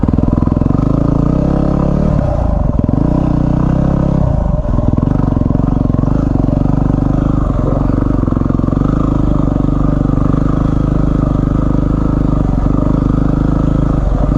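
A Yamaha WR250R motorcycle rides off-road, its engine droning steadily and close with a few rises and dips in pitch as the rider works the throttle over rough ground.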